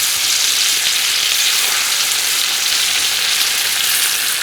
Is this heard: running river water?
no